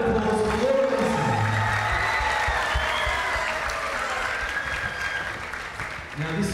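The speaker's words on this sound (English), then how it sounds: "Round of applause for Laura Neeson" Audience applause for a speaker at a Catholic talk event, dense clapping from a crowd that is loud at first and slowly tapers, with a low voice briefly audible at the start.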